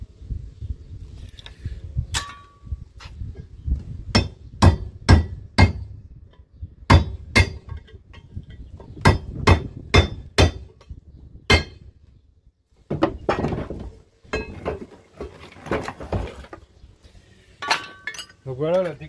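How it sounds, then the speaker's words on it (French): Hammer blows on a chisel knocking brass fittings off scrap metal, sharp metallic clinks and bangs in irregular bursts, loud and close, with pauses between strikes. "vous venez de mettre un petit coup de disqueuse en travers, un coup de burin et ça part tout seul"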